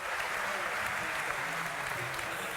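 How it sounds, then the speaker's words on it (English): An esports arena crowd at a Dota grand final cheers and applauds for Alliance, a dense, even wash of clapping and shouting heard from a distance throughout. "Crowd, are you going to give Alliance a cheer?"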